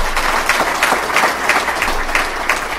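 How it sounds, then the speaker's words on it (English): An audience applauds steadily at a pitch challenge event, with dense, continuous clapping throughout that holds at an even, loud level. "let's have a round of applause for them"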